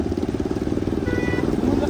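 A motorcycle engine with a misfire idles loud and close, throbbing in a fast, uneven pulsing rhythm for the whole stretch.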